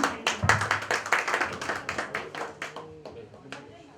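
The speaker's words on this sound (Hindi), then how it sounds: "तालियां हो जाए रोहित जी की" A small studio audience claps for singer Rohit at a New Year music show, scattered distinct hand claps that start fairly strong and thin out, growing sparser and fainter toward the end.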